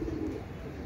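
Pigeons held in a net, a soft low cooing heard briefly and faintly against a quiet background.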